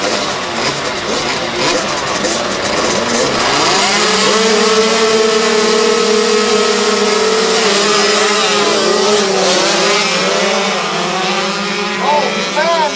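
A pack of 85cc motorcycles launches at the start of a TT race, their engines wailing loudly and rising in pitch as they accelerate away together, with overlapping high buzzing tones and a commentator talking throughout.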